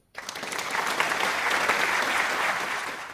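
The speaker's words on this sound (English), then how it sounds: "Give a big applause for them." A classroom audience applauds student groups after their microteaching presentations, a full, dense burst of many hands that starts suddenly and stays loud and even throughout.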